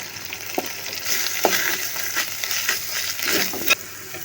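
Turmeric and chili powder sizzle loudly in hot oil in a frying pan, a steady crackling hiss with stirring scrapes and a few sharper clicks throughout, no voices.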